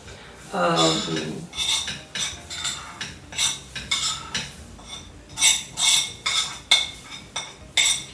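Utensil mixing vinegar with ginger garlic paste into a marinade slurry for Anglo-Indian mutton chops, a steady run of close scraping and clinking strokes against the bowl, with no talk.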